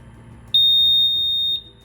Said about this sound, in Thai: เป็นเสียงสัญญาณเตือนเราจะกดให้ดู